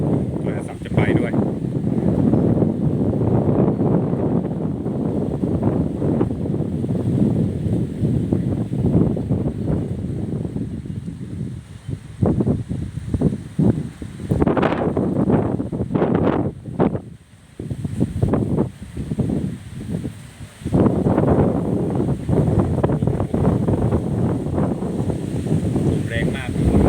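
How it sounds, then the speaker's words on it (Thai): Strong storm wind in Nonthaburi, Thailand roars in loud gusts as clouds build before rain, buffeting the microphone with rustling and rumbling that surges, briefly dips, then returns at full force. "ลมก็แรงมาก"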